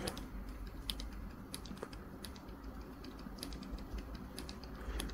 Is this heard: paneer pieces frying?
no